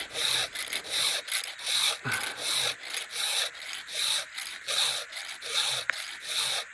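A round file is pushed by hand across the teeth of a chainsaw chain in a workshop, producing a rhythmic series of close, rasping strokes about two per second with brief pauses between, with no talking.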